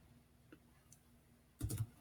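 A short burst of computer keyboard typing while entering a date into an Excel 2016 spreadsheet, a quick cluster of near clicks after a quiet stretch with a few faint taps.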